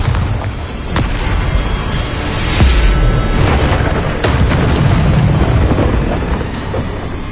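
Bombarda blasting spell from a Harry Potter video game: loud, dense booming explosions with crackling debris, several heavy bursts rolling together over a sustained rumble, no voices.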